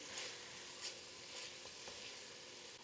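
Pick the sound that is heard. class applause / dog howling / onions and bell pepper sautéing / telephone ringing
onions and bell pepper sautéing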